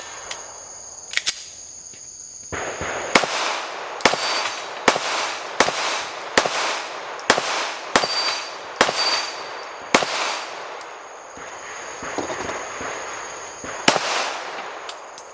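Sig Sauer P365-style CR920X pistol fired at a range: about a dozen sharp, loud gunshots at uneven intervals of roughly one second, each with a short ringing tail, plus a faint metallic clink early on.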